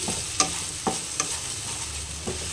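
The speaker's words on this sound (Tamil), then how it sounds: "பாருங்கள் தக்காளி வதங்கிட்டுருக்கு ஒரு அளவுக்கு வதங்கிடுச்சு இன்னும் நல்லா வதக்கணும்" Tomatoes cooking down in a pan for tomato chutney give a loud, constant sizzle, broken by a few sharp spatula scrapes and taps spaced about half a second apart.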